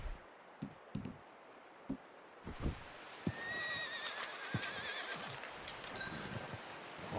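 A horse in Red Dead Redemption 2 gives a loud whinny in the second half, preceded and accompanied by scattered hoof clops and footsteps in an outdoor game scene.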